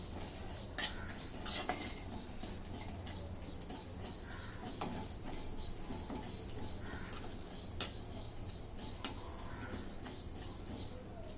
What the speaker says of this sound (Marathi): जिरं घेतलं धने एक चमचा तीळ एक चमचा आणि बडीशेप आणि दालचिनीचे तुकडे आता हे भाजून घेते